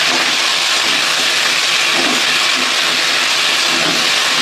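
Spices with ground ginger and cumin paste frying in a pan for an onion omelette, a loud, steady, dense sizzle running unbroken throughout.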